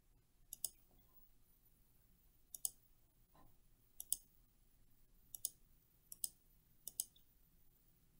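Computer mouse clicks while working in structural analysis software, about nine sharp, close clicks spaced irregularly, some in quick pairs, over a quiet room with no talking.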